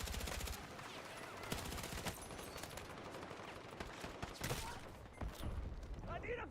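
Dense video game gunfire, a rapid crackle of many shots and bursts layered over one another, fairly faint and continuous with a few louder hits.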